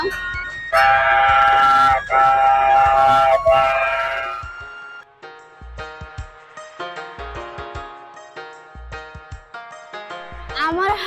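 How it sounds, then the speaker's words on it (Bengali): A children's amusement train rolls into a water park at night, sounding a loud tonal horn or melody that pulses in repeated bursts, while someone talks over it. "এই দেখুন ট্রেন আসছে চিকনির সেই ট্রেন ছোটদের বিনোদন দেওয়ার জন্য"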